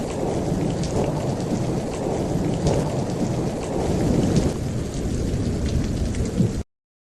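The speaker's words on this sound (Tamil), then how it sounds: "ரொம்ப இடியும் மின்னலுமா மழை மேகங்கள் அதிக மழைய மிட்டு மகாராஜா காட்டுல பொழிஞ்சுது" Heavy rain pours steadily with rolling thunder rumbling through it, loud and continuous until it cuts off abruptly.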